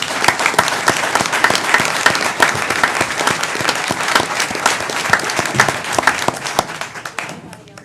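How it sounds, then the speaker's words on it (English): Sustained applause fills a San Angelo city council chamber, many hands clapping with sharp individual claps standing out near the front, holding for several seconds before gradually thinning out at the end. "Give a round of applause to our"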